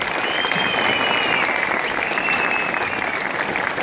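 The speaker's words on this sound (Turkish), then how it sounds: "şöyle güçlü bir alkış istiyorum sizlerden" Strong, dense applause from a crowd at the opening ceremony of an indoor swimming pool, continuous and loud from start to finish, with a faint whistle-like tone riding above it.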